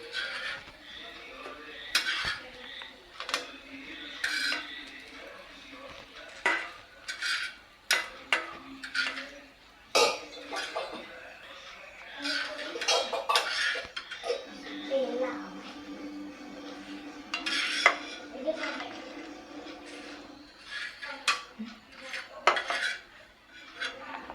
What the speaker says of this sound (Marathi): आता ही भेंडी फ्राय करून झालेली आहे, तर आता आपण ही ह्या प्लेटमध्ये काढून घेऊया.